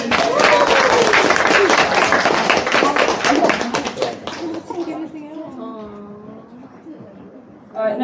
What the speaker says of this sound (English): Alright, can we get a round of applause for Elizabeth